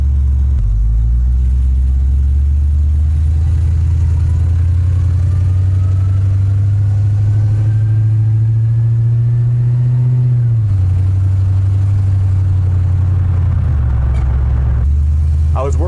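A 1973 Chevrolet C10 pickup with an LS engine swap runs loudly and close up, a steady deep engine drone with a slight rise and fall in pitch, and a voice speaks briefly over it.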